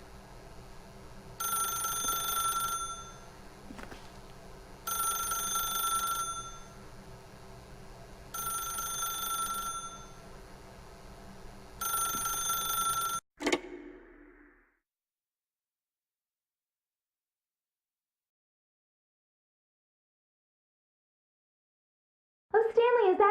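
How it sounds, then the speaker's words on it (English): A telephone rings in The Stanley Parable, four long ringing bursts with short gaps, loud and alone, then a sharp click as the phone is picked up, followed by silence and a brief voice at the end. "If you can truly place your faith in another, then pick up the phone."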